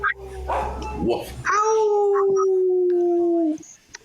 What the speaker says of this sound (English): the dog is whining for a bone